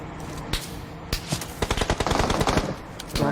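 Rapid bursts of automatic gunfire ring out in a battle royale video game scrim match, loud and close, with rattling volleys growing denser toward the end.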